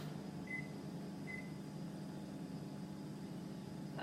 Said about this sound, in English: I do call this the oven, it's a microwave oven.